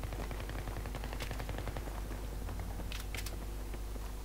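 Rapid gunfire from the video game Battlefield 3, a dense stream of sharp shots and bursts running steadily throughout, loud and close with a few brighter cracks near the end and no talk.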